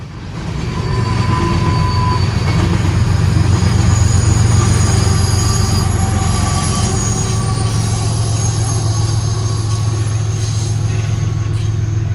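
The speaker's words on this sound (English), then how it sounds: "This train has two distributed power units at the back, two separate locomotives. an ES44ACH, and an ET44ACH." A long freight train rolls past up close with two distributed power locomotives, an ES44ACH and an ET44ACH, at the rear, loud and constant, with rumbling wheels and squealing rails throughout.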